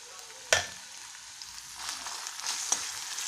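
Chopped tomato and onions fry in a pan for a chili soya chunks dish, giving a soft steady sizzle with a sharp clack near the start and another later, a quiet kitchen sound with no voices.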